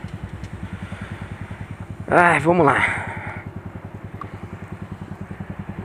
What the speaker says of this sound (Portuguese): Uma Bandit. Olha só, essa moto pra mim é que tem o barulho mais bonito de todos.